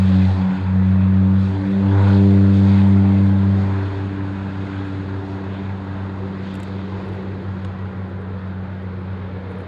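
A propeller aircraft roars at an airshow departure from Waddington's runway 20, a loud droning engine with steady low hum swelling near and then easing slightly as it moves off, with no voices.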